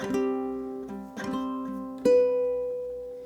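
Plucked ukulele notes of the first bar of a song ring out in a short phrase, three bright attacks each sustaining and fading, played alone with no voices.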